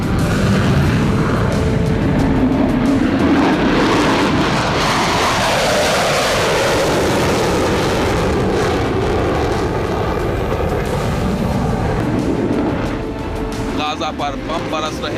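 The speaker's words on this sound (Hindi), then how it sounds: "अब भी इजराइल के लड़ाकू विमान गरज रहे हैं।" Israeli fighter jets roar overhead in a sustained, loud, broadband rumble that swells and shifts in pitch as they pass, with occasional booms blending into the din.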